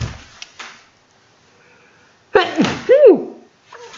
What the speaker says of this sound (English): Sorry, I just needed to sneeze there.